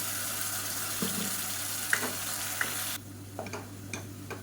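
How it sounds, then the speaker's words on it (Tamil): Ginger, garlic and onion paste sizzles and fries in a pan for a Tamil parotta salna, a steady close crackle with a few stirring scrapes and clinks, then a drop to quieter sizzling. "இஞ்சி பூண்டு வெங்காய பேஸ்ட்டை சேர்த்துலாம் இது நல்லா பச்சை வாசனை போக வதக்கிக்கலாம்"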